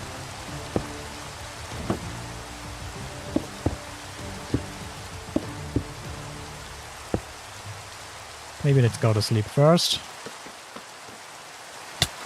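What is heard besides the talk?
rain falling in Minecraft, from a video game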